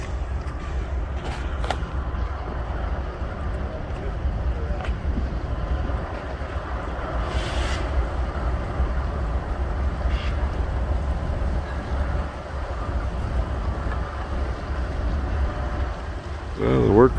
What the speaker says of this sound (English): Boy, that wind today.